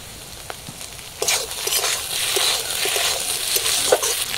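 Potatoes frying in a pan give a steady sizzle with crackling spatters, moderately loud and building after the first second, heard alone without talk.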